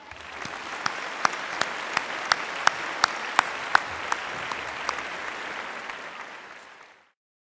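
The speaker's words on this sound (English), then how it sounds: "Please give them a round of applause for all those winners." A crowd at the Yap Canoe Festival applauds award winners, with sustained clapping punctuated by a few sharp, louder claps standing out near the front before the applause fades out.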